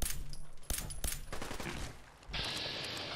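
Gunfire in Fallout 4 VR, a run of sharp close shots in quick bursts, then a brief lull and a hissing, crackling wash of noise, with no talking.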